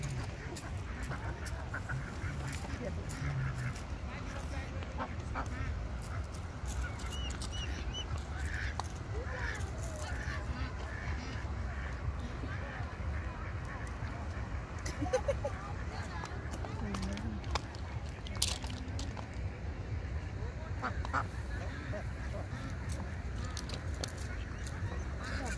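Ducks at Chitgar Lake quacking intermittently in the background, faint and scattered under steady outdoor noise and people talking nearby.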